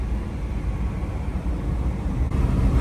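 A 1965 Plymouth Barracuda with a stock 273 V8 and a four-barrel carburetor drives under part throttle, a steady low engine drone with mild rise and fall as it revs and then eases off under compression.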